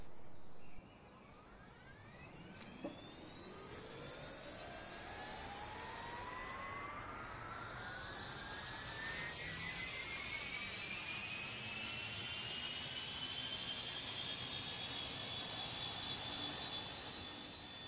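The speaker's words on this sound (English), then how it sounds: "And let us start the engines." Airbus A330-900 jet engines spool up in the Roblox flight game Aeronautica. A rising whine climbs steadily and settles into a loud, sustained turbine roar, with no voices over it.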